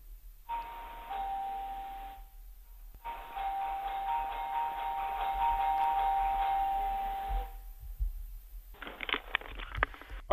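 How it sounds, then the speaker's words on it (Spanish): A house doorbell rings over a phone line, with two long electronic buzzing rings separated by a short pause, fairly loud but slightly distant, followed by some rattling noise. "abra usted la puerta de su casa y toque el timbre de la casa"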